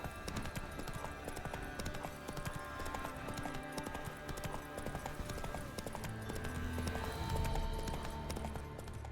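Hooves of the horse Roach clip-clopping in a steady, rapid rhythm in The Witcher 3 video game, fairly faint under game music and ambience, with no one talking.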